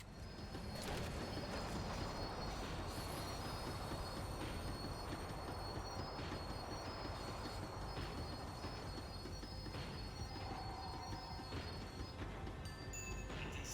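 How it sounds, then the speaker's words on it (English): A tram in Max Payne 3 slows down with a steady rumble of wheels on rails and faint high squeals, heard up close and continuous with no talk. "The tram was slowing down"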